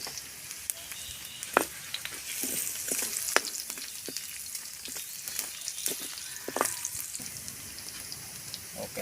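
A large amount of garlic frying in cooking oil in a home kitchen, giving a steady close sizzle broken by scattered pops, crackles and occasional stirring clatter, with no voices.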